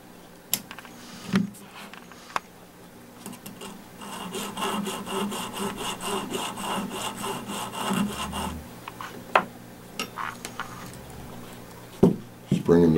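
A pistol trigger part is filed down by hand, rhythmic close scraping strokes in a sustained burst, with brief handling noises and a person talking before and after.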